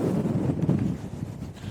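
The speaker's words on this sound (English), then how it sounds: "it's ridiculously windy" Strong wind buffets the microphone on an open hilltop, a steady low roar and rumble filling the whole short stretch with no voices.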